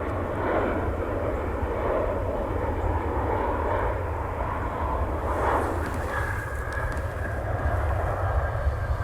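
A Delta Boeing 737-800 airliner passes overhead, a steady low engine rumble with a soft broadband roar that swells midway and fades, heard alone without talk.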